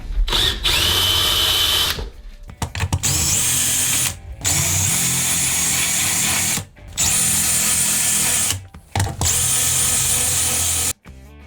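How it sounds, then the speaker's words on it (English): A power drill fitted with a countersink bit grinds into a car window regulator cover, running loud in long continuous bursts broken by short pauses. "what I thought I'd try in the first instance is a countersink,"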